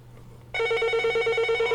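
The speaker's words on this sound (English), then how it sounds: "Phone ringing." A telephone rings loudly and continuously after a short quiet start, its steady bright electronic trill heard alone with no talk.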